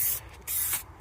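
Maintenance spray hisses from an aerosol can onto the engine of a VW T4 camper in two close bursts, sharp and near, with a brief pause between them.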